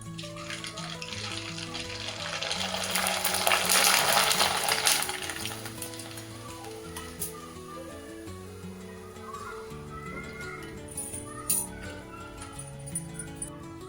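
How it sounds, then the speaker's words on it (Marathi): Sun-dried rice papads (fenya) dropped into hot oil give a loud bubbling fry that swells and then settles into lighter crackle, with a few small clinks, and someone speaks briefly. "आता मी तुम्हाला तळून दाखवते."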